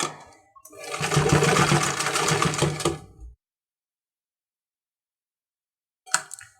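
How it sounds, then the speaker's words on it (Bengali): A sewing machine stitches the shoulder seam of a baby frock in a loud close burst of rapid needle chatter lasting a couple of seconds, then silence, then a brief final run. "আরও একটা সাইড এরকমভাবে সেলাই করে নিব"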